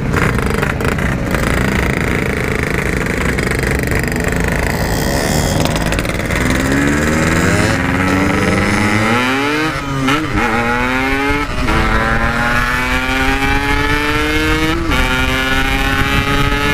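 Two-stroke motorcycles speed along a road, engines screaming loudly up and down through rising and falling revs, with several overlapping bikes passing close and the whine sweeping upward repeatedly.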